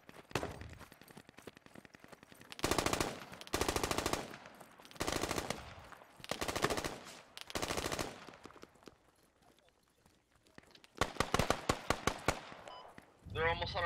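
Automatic and rapid gunfire in the military shooter Squad comes in repeated bursts, loud and close, with brief pauses between volleys and a final flurry of shots near the end; a voice speaks briefly at the close.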